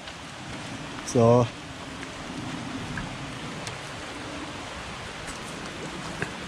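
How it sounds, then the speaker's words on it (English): Steady rain pattering down through a woodland tree canopy on a muddy, slippery slope, a soft continuous wash heard from under the trees, with a brief spoken word near the start. "It's actually raining now, but with the canopy for the trees, it's a natural umbrella."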